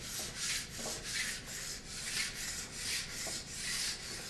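A heavier-grit stone in a guide rubs along a ski edge in steady back-and-forth strokes, roughly two per second, a close, even scraping with no talk.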